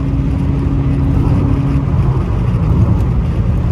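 A BMW 316i drives along, its engine and exhaust giving a steady, loud low rumble that holds without pause, with no voices.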